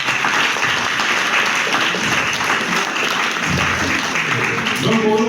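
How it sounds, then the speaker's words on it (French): Loud applause from an audience at a book signing ceremony, a dense continuous clapping that fills the whole span, with a voice and some crowd sound rising near the end. "Applaudissez-les encore une fois."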